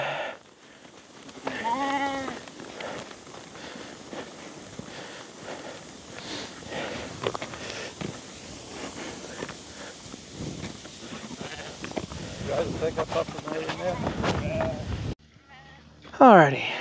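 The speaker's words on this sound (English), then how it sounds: "Sheep will be here for the night" Katahdin hair sheep bleat a few times at moderate distance outdoors, with scattered rustling and footsteps and a clear bleat near the end.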